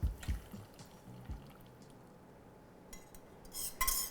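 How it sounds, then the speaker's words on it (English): Mint ice cream custard base is poured through a fine metal strainer, with a faint liquid trickle and drips, light clinks of utensils and a few louder knocks near the end, no talking. "I'm gonna pour this through my strainer."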